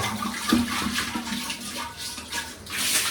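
Water pours and splashes into a container at home during festival morning chores, a steady close running-water sound with small clinks, fairly quiet; no talking.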